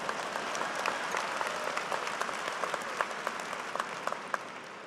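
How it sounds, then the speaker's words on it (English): A large audience applauds at a university business school's spring commencement ceremony, with steady, dense clapping throughout and occasional sharper claps standing out. "Yeah, you can applaud for Taylor Swift."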